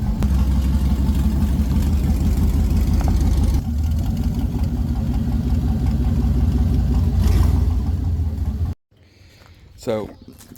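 A car engine idles while the car is repositioned, a loud continuous low rumble that shifts slightly partway through and then cuts off abruptly, leaving quiet room sound and a brief voice.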